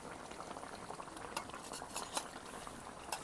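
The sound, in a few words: stirring cumin paste with fish curry broth in a bowl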